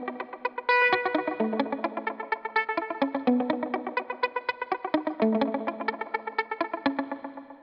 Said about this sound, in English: here is basically the echo